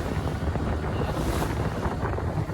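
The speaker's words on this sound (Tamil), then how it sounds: "இன்னைக்கு காலையிலேருந்தே கொஞ்சம் காற்று வேகமாக இருக்குது ஃப்ரெண்ட்ஸ்." Strong wind roars steadily across the microphone aboard a fishing boat out at sea on a squid-fishing trip, a dense, continuous rush with water noise and no voices.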